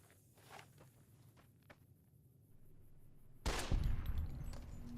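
Pistol gunfire in the video game Fallout: New Vegas, a few faint quick shots and footsteps followed by a loud, sustained burst of firing and impact noise.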